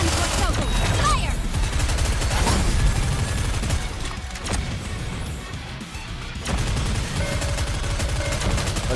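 Gunfire in the video game Goddess of Victory: NIKKE, with dense rapid bursts of automatic shots, crashes and impacts, loud and near, mixed with game voices and music.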